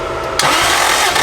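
Formula Drift S15 car with a five-cylinder engine running on a lost cylinder, giving a loud, rough, steady engine roar that jumps up sharply after a quiet start and holds for about a second.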